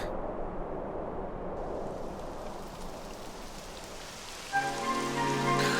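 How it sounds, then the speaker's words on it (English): Steady rain falls in the Dragon Quest XI video game, a dense, even hiss of drops that holds throughout at moderate level, with a soft musical tone entering near the end and no talk. "It would have to go and start raining, wouldn't it?"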